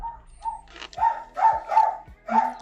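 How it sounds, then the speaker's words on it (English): A dog barks several times in a steady series of sharp, fairly close barks, with short pauses between them and no talk over them. "Dog's barking."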